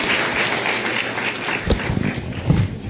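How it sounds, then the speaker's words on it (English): An audience applauds at the close of a public lecture, a broad spread of clapping from many hands with a few louder, closer claps standing out near the end. "Dr. Rajeevan, Dr. Kelkar, a huge round of applause"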